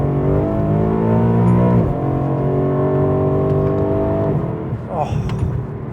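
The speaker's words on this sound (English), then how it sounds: "You don't want to drive fast, you just want to hear that V8 engine sing." A BMW E92 M3 GTS V8 engine pulls hard through the gears, its loud rising drone dropping at each shift, with quick downshift blips near the end; heard from inside the car.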